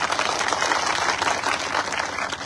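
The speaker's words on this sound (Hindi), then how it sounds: "तो सारे लोग ताली बजाओ" An audience at a political speech breaks into a short burst of clapping. The applause is dense and steady, heard at moderate distance.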